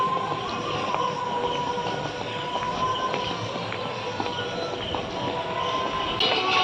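A train rolls through a railway station with a steady rumble of wheels on rails and faint metallic squeals and clanks, moderately close and continuous throughout.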